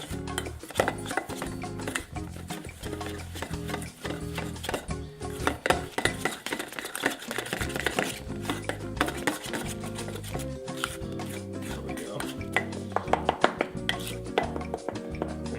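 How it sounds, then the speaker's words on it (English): Spoon scraping and stirring chocolate peanut butter protein icing in a bowl: continuous close rasping rubs mixed with scattered light clinks against the sides. "I'm gonna mix this up. This is gonna form our icing."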